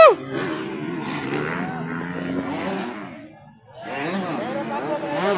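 Motocross motorcycles at a Kaamulan festival competition rev and roar with rising and falling engine pitch, loud and close, under excited shouting and crowd noise, briefly dropping away before surging again.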